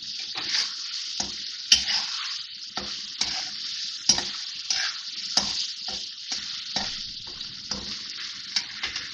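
Masala fries over a medium-high flame in a pan for dhaba-style lauki sabzi, with a close, bright sizzle broken by repeated scraping stirring strokes in an uneven rhythm.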